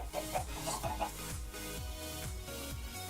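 Chickens clucking in Minecraft, the blocky game-style clucks repeating in quick bursts over steady background music, moderately faint and with no talk.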